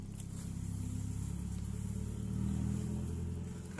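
A neighbor's motor vehicle idles and revs nearby, a low steady engine drone with faint rises in pitch, heard alone and fairly quiet.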